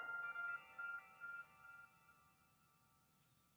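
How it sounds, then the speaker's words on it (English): In the Pokémon Legends: Arceus video game, the Arc Phone beeps in a few short repeated electronic tones, quiet and fading into soft game ambience. "Your Arce phone is beeping."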